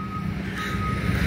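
A heavy-haul company truck from a custom rack and heavy transport outfit sounds a steady, loud high reversing beep over a deep idling diesel rumble, close by and continuous through the short stretch.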